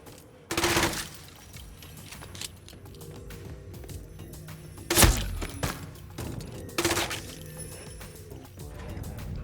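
Scrap SMG firing in Hitman Freelancer, several loud bursts of automatic gunfire separated by quieter gaps with mechanical clatter.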